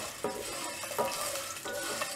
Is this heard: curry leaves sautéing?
yes